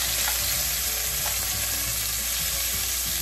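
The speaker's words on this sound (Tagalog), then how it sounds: "So habang piniprito nyo ang ating atay" Liver frying in oil in a pan, a dense steady sizzle with crackling pops close up and no voices.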